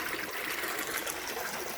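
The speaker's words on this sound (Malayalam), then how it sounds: "ഇപ്പോൾ കലക്ക് വെള്ളം ഉണ്ടോ, ശരിക്കും ഇതിൽ മോശം വെള്ളം പോവുകയാണ്." Dirty water pours out steadily in a continuous rushing gush as a water filter is backwashed, close by, with no talking.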